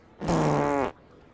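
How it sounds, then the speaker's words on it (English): A cartoon fart sound effect in an animated comedy series, one loud buzzy blat lasting under a second, heard alone. "Just tell him Jude farts a lot."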